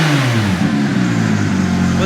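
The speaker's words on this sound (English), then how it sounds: "it should sound pretty fruity when you rev it" Porsche 997.2 GT3 flat-six with an Inconel exhaust revving hard, a loud, close, continuous engine roar whose pitch rises and falls through the rev, with no pause or talk.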